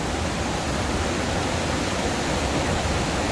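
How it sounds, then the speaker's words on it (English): The waterfall and river flowing out of Llyn Idwal in Snowdonia roar in a constant, loud, broad rush of water with no break. "this is the waterfall and the river that leads from the lake that just walked around"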